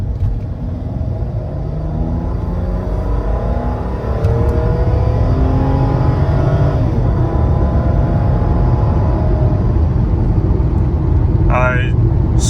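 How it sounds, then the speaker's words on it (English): A red Mercedes W124 engine is revved on a hot day, a deep loud rumble with a wavering, rising engine note that swells after a few seconds and holds, ending with a brief higher beep-like sound. "We'll just go into the 80 zone now with a little bit of a crack of the throttle."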